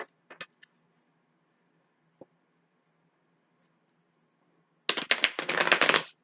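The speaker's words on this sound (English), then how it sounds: "Give it a quick shuffle." Tarot cards riffle and slap together in a quick, crisp shuffle near the end, after a few soft isolated taps and a long silence.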